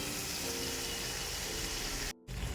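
Masala spice paste frying in a pan: a steady, close sizzle with a dense hissing crackle that continues evenly, cut by a brief silent gap near the end before resuming.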